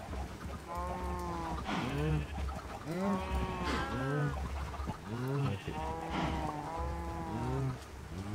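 Repeated bleating of goats and sheep in the Minecraft video game, several overlapping calls with a wavering pitch, heard close and loud and continuing throughout amid other farm animal noises.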